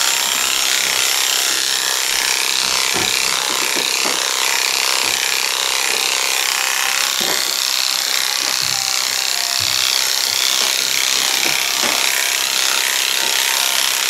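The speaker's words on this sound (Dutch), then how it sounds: "Je hoort hem tekeer gaan, hè, die tondeuse" An electric hair clipper trims the coat of a Bolonka dog, giving a steady, loud, close buzzing hiss with intermittent scratchy, rasping bursts as the blades work through the hair.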